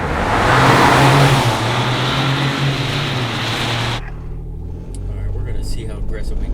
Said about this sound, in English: I only revved it up to about 1500 last time, but I'm gonna do a little more this time